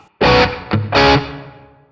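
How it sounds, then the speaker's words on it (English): Distorted electric guitar through a NUX amp modeler with reverb switched on, two loud strummed chords in quick succession, the second ringing out into a long fading tail. "For scene 2, I'm going to turn on the reverb"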